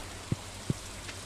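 Rain in the video game Stardew Valley falls as a soft, steady hiss throughout, with two brief low thuds standing out.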